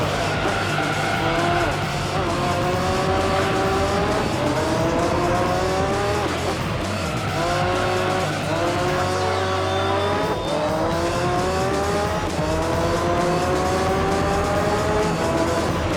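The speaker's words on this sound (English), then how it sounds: "The skyline is just drifting" A Nissan Skyline drifts in the video game Gran Turismo 3, its engine droning steadily while tires squeal in long repeated sweeps, loud and continuous throughout.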